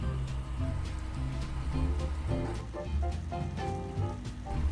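Beans, frozen corn, vegetable broth, tomato paste, cumin, chipotle peppers and adobo sauce sauté in a pan, giving a steady close sizzle and bubbling patter with small pops throughout.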